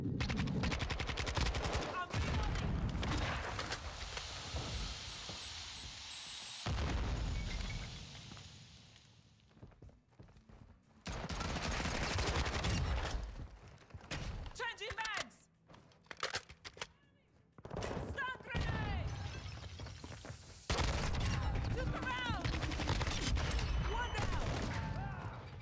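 Gunfire and explosions in the Call of Duty video game come in dense bursts separated by short lulls, loud and close, with players talking over the action.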